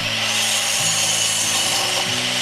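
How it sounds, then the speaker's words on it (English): A saw cuts through a wooden wall stud clamped in place, a loud continuous rasping drone with small pitch shifts as the blade works, close and with no voices. "I cut the first stud for the wall"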